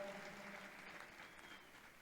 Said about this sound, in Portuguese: E os aplausos a todos os homenageados